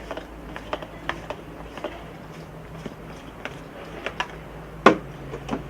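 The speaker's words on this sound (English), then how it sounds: "Take out your membrane housing. It's going to be a little tight. You want to unscrew it like this." Tight reverse osmosis membrane housing on a garden water filtration system being unscrewed by hand, a series of soft plastic clicks and creaks at irregular intervals with one sharper snap near the end, close and quiet.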